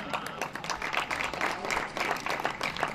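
An audience at a Kavi Sammelan poetry recital during Maa Saraswati Mahotsav 2016 breaks into dense, continuous applause of many hands clapping at once, moderately distant and somewhat soft, with no voices over it.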